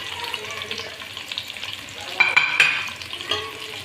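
Chicken pieces for a chicken Manchurian frying in a pan, with a steady crackling sizzle and stirring scrapes, growing louder briefly midway.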